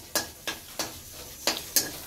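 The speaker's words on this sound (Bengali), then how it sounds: "এদিকে আমার পেঁয়াজ কাঁচা লঙ্কা দিয়ে আলু উচ্ছে ভাজাটা হচ্ছে" Potato and bitter gourd frying with onion and green chilli in a pan, with five sharp scraping stirs at uneven intervals over a soft background sizzle, close by.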